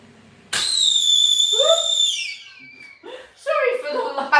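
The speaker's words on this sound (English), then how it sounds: "Sorry for the loud whistle at that point." A loud, shrill whistle sounds close by, starting sharply and holding high, then sliding down, followed by short whistled bursts as a voice also comes through.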